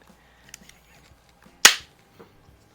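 A Gamo Compact air pistol fires once, a single sharp, loud crack with a short fading tail, with faint handling clicks before and after in a quiet room.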